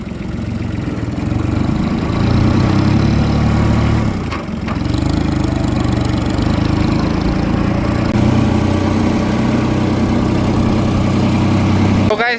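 A freshly repaired tractor's engine runs loudly and steadily as it drives off, a close continuous low diesel drone with a brief dip partway through.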